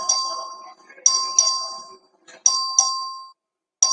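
The clerk in the Texas House chamber rings the voting bell in several sharp, loud dings. Each ring hums and fades before the next strike, with short gaps between them.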